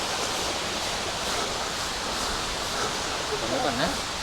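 Water pours down the Sai Yok Noi waterfall in Kanchanaburi, heard as a continuous, even rushing hiss close by with no breaks.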